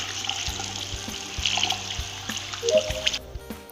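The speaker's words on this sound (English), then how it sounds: "Why are you taking a shower with me" In the online game Among Us, a shower runs with a steady hiss of water. A low, repeating musical tone pulses underneath, and it ends in a brief, sharp cutoff.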